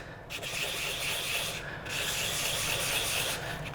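Wet and dry abrasive paper rubbed over a part on an HB Racing E819RS 1/8 scale buggy, lubricated with Simple Green or WD-40: steady close-up gritty scraping strokes with short pauses between passes, no talking.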